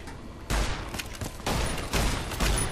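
Enemy gunfire in Fallout: New Vegas on very hard hardcore mode, repeated loud bursts of rapid shots in several volleys, dense and close.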